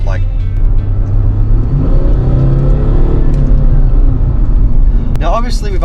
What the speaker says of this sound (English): even with the stock exhaust it's still got quite a beautiful note on its pickup